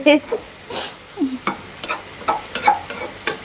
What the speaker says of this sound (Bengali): ফুলকপি পাতাকপি চিম আলু দিয়ে একটা ভাজি হচ্ছে সবজি ভাজি জিরা হয়ে দিচ্ছি